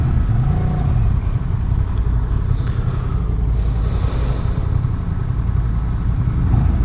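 A 2023 Honda Transalp XL750 motorcycle pulling uphill in first gear through a village, its engine a steady, loud, continuous drone with no break.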